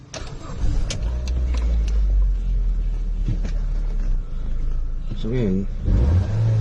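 A Ford Focus with reduced acceleration and a fuel gauge fault cranks and runs, its low engine rumble steady throughout with a brief rising rev near the end, while someone talks over it.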